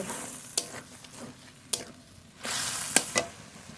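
Spice paste sautéed with a little water in a pan for a mutton-fat ghugni sizzles steadily, with sharp spatula scrapes and taps scattered through, rising louder near the end.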